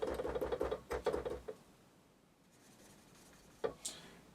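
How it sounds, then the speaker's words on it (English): Quick scratchy strokes of a dry marker mark a key on a Roland JX-3P synthesizer, a cluster of short rubbing squeaks followed by quiet and two brief final scratches, close and faint. "I'm just going to mark that with a dry marker"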